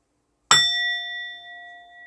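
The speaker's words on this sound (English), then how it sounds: "Let us ring the bell to cleanse and clear the energy." A single bell struck once to cleanse and clear the energy, a sharp bright strike followed by a long clear ringing tone that slowly fades, alone in a quiet room.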